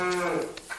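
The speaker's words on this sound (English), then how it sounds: "Cows must be milked on time, even if their clock has not changed since the days of Prince Albert" A single cow moos at a farm, a short close low bellow that fades out within a second, with nothing else heard.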